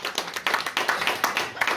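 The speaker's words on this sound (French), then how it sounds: "Oui, on peut applaudir." An audience at a literary conference claps for an author, a brisk, fairly close patter of hands that pulses steadily for under two seconds.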